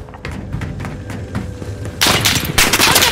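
Rapid gunfire in a shooter game pops in quick bursts at some distance, then turns sharply louder and closer with heavy overlapping shots in the second half.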